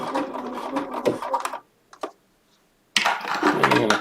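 A Bernina sewing machine stitches in two dense, steady bursts separated by a near-silent pause of about a second and a half, running close and loud with no talk over it.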